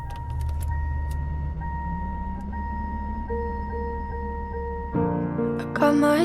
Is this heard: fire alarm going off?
no